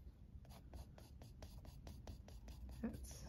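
A pencil draws the lines of a cube on paper, a rapid series of short, close scratchy strokes in a steady rhythm, quiet and alone with no talk.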